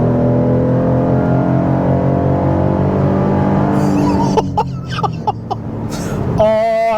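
A Chevrolet Colorado Z71's 3.6-liter V6 engine running at a steady, loud drone, then a few sharp blips of revving before a final rising rev.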